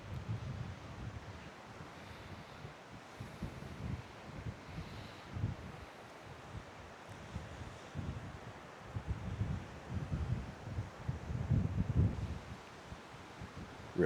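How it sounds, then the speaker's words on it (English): Gusty wind at a riverside state park rumbles low and buffets the microphone, rising and falling in waves for several seconds and growing stronger toward the end, with no talking. "It's a little windy out here today."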